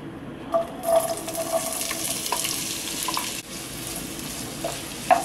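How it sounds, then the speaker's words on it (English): Chopped onion frying in hot oil in a pan for a cauliflower masala curry, a steady close sizzle with faint stirring clatter throughout. "Heat oil in a pan and salt chopped onion."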